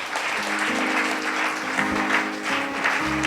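A church congregation claps steadily in a broad, even wash of applause, with faint sustained tones and voices underneath.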